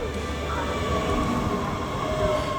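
Steady rumble of a fast passenger train on Hainan Island, continuous and fairly loud, with faint squealing wheel tones running under it.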